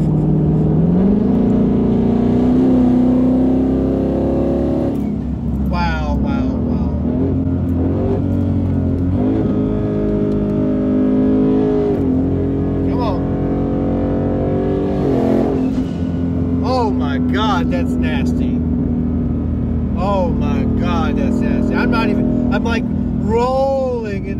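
A twin-turbo 2019 Ford Mustang GT running on E85 accelerates hard on the street, a loud sustained engine drone rising in pitch through gear pulls, with people talking over the roar inside the car.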